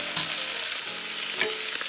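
Sea bream fish sizzles and crackles steadily as it is tossed into a hot pan with ginger and green onion, an unbroken close frying hiss with soft stirring.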